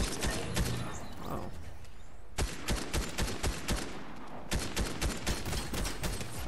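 Gunfire from a newly found weapon in Fortnite Chapter 3 fires in a rapid string of sharp, loud bursts after a brief pause, over a steady bed of in-game background sound.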